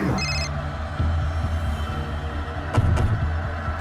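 Mobile phone ringing with an incoming call from an unknown number, a repeating electronic ringtone pattern over a low steady hum, fairly clear and close.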